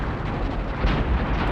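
Artillery rounds landing in the Cold War wargame Armored Brigade 2, a dense, loud rumbling roar of blasts that swells and rolls continuously without pause.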